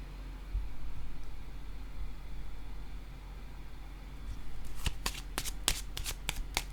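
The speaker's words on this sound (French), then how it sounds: "je vais déposer une carte sur l'éclair" Tarot cards being shuffled and laid down, a quiet stretch of hand handling followed by a quick series of sharp riffling snaps and slaps, close and crisp, with no talking.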